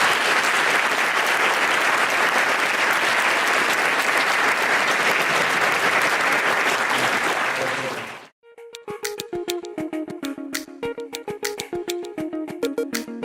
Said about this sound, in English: let's give Sheldon a round of applause.